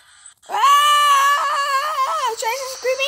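A character in the survival video game Raft lets out one long, loud, high-pitched scream that wavers and breaks over about three seconds, heard alone without other talk.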